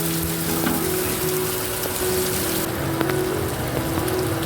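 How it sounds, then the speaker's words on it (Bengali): Chopped onion sizzles steadily in hot oil in a wok, a dense crackling hiss that stays even throughout with a few faint clinks, no voices. "তারপর একটু পেঁয়াজ কুচি দিয়ে ভাজা বসিয়েছি"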